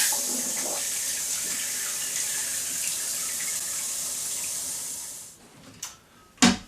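Water rushes steadily into a toilet cistern through a newly fitted top-fixed push-button flush valve, a loud continuous hiss that fades out, followed by a couple of brief knocks.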